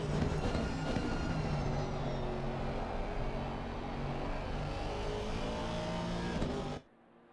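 An Aston Martin GT3 race car engine drones steadily in a racing game, a continuous dense roar with shifting pitch that holds for several seconds before cutting off abruptly near the end.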